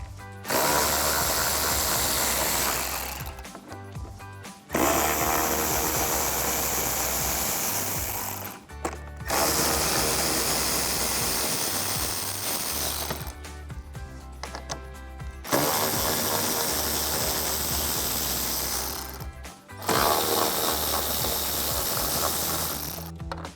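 Power tool driving out 10mm bolts from a 2015-2017 Ford F-150 inner trim panel, loud continuous whirring runs of several seconds each, split by four brief pauses.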